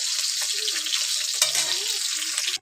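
Tengra fish frying in a hot pan of oil gives a loud, steady hiss close by, with faint scraping of a utensil as the pieces are turned, and it stops abruptly.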